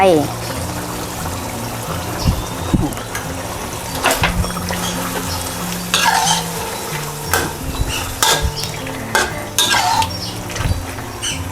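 Pork leg is stir-fried with curry paste and fresh milk in a pan, giving a steady sizzle with repeated scraping and clinking of a utensil against the pan, while music or voices continue in the background.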